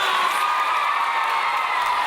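Elementary school students fill an auditorium with cheering, whooping and shouting, a dense, bright crowd roar held steady and loud for a couple of seconds.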